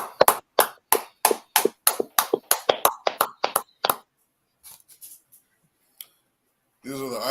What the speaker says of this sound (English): All right, let's clap it up for Officer 500 Barakiala.